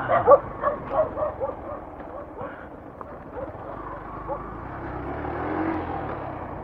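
Several dogs bark in quick, loud bursts during the first couple of seconds on a rough road near Lambunao, Iloilo, then a low motorcycle rumble takes over.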